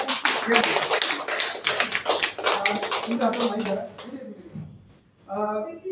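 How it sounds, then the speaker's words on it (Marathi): An audience applauds with dense, sustained clapping for a woman being welcomed at an event in Nashik, fading out before a speaker's voice returns at the end. "टाळ्या वाजवा एक वेळा."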